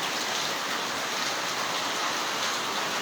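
Heavy rain falling steadily, a dense, even hiss of drops throughout with no pauses and no talk.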